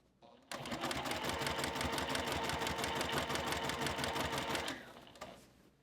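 A sewing machine with a binding foot stitches quilt binding at stitch length 2 with confetti thread, a steady close, loud mechanical chatter running for about four seconds before stopping.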